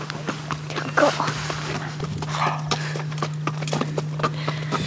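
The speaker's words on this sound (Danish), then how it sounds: "Der kommer en ridende" Horse hooves clip-clop steadily on the ground as a rider draws near outdoors, the even beats fairly close and clear over a constant low hum, with a dog and faint background voices now and then.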